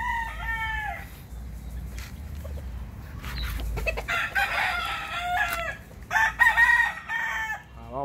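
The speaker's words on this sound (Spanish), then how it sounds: "Les vamos a presentar estos pollos que están de pelea." Several fighting roosters crow in turn, loud and close, with harmonic cock-a-doodle-doo calls over a low rumble and some clucking between them.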